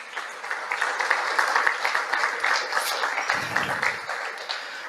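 A church congregation applauding during a family worship service, a broad wash of many hands clapping at a steady moderate loudness, with no talk over it.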